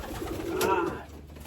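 A racing pigeon gives a single soft, throaty coo, close but fairly quiet over steady background noise, with no talk.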